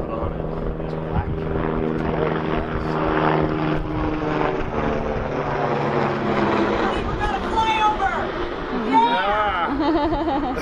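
A propeller airplane from a nearby airport passes overhead, a continuous droning engine hum that swells and shifts in pitch as it flies by, heard under someone talking throughout.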